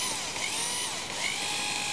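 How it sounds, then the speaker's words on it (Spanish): A power drill bores holes into holm oak logs for shiitake cultivation, giving a continuous high whine that runs for the whole stretch, close and alone with no talk. "Y ahora vamos a proceder a hacer los agujeros con el taladro en los troncos de encina."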